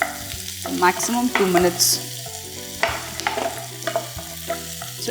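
Tiger prawns sizzle steadily in a hot pan while being stirred, with clattering scrapes of the spatula in bursts and a brief spoken remark over the frying.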